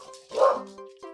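A dog gives a single short bark in the video game Hypnospace Outlaw, a quick moderately quiet yap with a brief whimpering tail.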